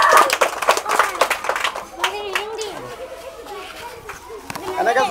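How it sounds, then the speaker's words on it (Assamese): Children in a classroom clap together in a quick burst of scattered claps that thins out, with children's voices and chatter around it. "সবেই তালি বজাই"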